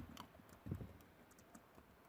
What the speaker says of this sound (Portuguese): vou digitar aqui a expressão